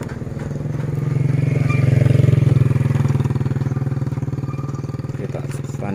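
A motorcycle engine runs close by with a fast, even, throbbing pulse that swells a little louder midway and then settles back to a steady idle-like chug.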